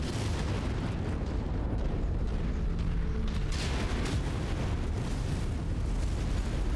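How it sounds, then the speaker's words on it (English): Artillery strike explosions from MechWarrior 5 in a heavy battle, a continuous loud rumbling roar of blasts and debris with dense low-end booms throughout. "Alright, that's the artillery"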